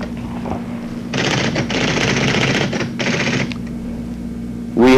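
Typewriter terminal printing APL system command output in bursts of rapid mechanical strikes, three clattering runs with short pauses between them, fairly close and loud.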